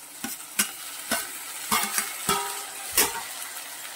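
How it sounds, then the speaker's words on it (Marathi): Chopped capsicum tossed into softened potatoes frying in oil, a close sizzle broken by about six rhythmic scraping stirs of a spatula against the pan, with no voices. "आता ही ढबू मिरची कट केलेली घालायची आहे।"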